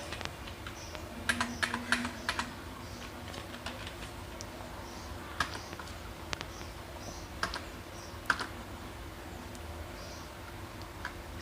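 Computer keyboard keys tap in short irregular bursts with pauses between, quiet and close, while entering data in Tally Prime accounting software, no talking.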